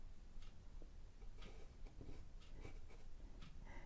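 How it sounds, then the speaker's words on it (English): Soft, dry scratching of a small brush sketching a loose portrait on paper, faint, close and intermittent with light strokes and taps. "Using my little gnarly brush to sketch here."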